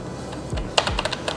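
Redgear Blaze MT01 semi-mechanical membrane gaming keyboard with a metallic frame being tapped, a short quick run of about half a dozen crisp key clicks at close range, alone.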